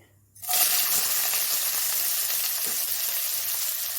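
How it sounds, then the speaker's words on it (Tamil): After a brief quiet moment, onions drop into heated oil and burst into a loud, steady hiss and sizzle that continues close and unbroken to the end, with faint stirring underneath. "இப்போ எண்ணெய் ஊற்றுனதுக்கப்புறம் எண்ணெய் காஞ்சதுக்கப்புறம் வெங்காயம் போட்டுக்கலாம்"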